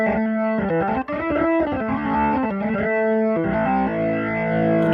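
A Hammond organ clone on iOS plays with the drive effect engaged, sustained gritty chords that shift through several changes, loud and close, with a chorus-like shimmer and no talking.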